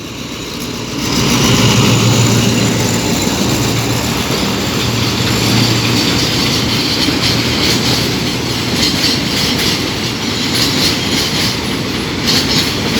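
An Alsthom diesel locomotive pulling a crude oil freight train rumbles past close by at night, a loud continuous roar of engine and rolling wagons with rhythmic wheel clatter building after a quiet start.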